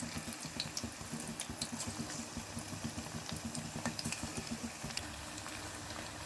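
A batch of food frying in hot oil for a Sunday lunch gives a steady, close, dense sizzle and bubbling that carries on evenly throughout, without any speech.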